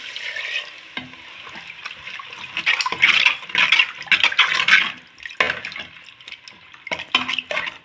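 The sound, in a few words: water being added to the cooking pan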